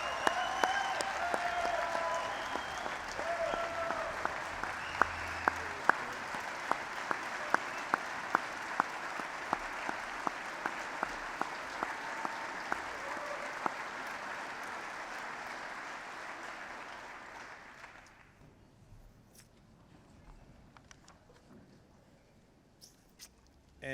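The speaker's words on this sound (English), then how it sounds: "let's give a big round of applause for the Portage County Award" Audience applause at a high school sports awards ceremony, a sustained crowd clapping that holds steady then fades out toward the end, with no talk over it.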